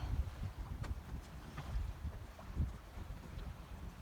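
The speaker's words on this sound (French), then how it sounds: "juste le bruit de l'eau" Steady rush of water against a boat moving at about 5 knots through mangroves, with low wind rumble buffeting the microphone, continuous and fairly soft.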